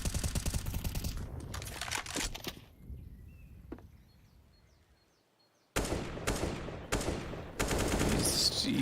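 Gunfire in a competitive Counter-Strike match, with loud rapid shots and bursts at the start, a quieter lull in the middle, then sharp single shots and renewed firing near the end.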